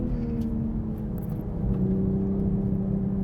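A 2020 Toyota Supra engine drones steadily at speed on a racetrack, its pitch holding then shifting slightly as it pulls along, with no voices.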